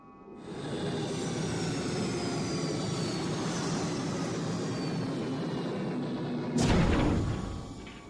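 A shuttle engine in the Star Trek Online video game roars steadily like a jet aircraft, with a louder rushing surge near the end and no talk.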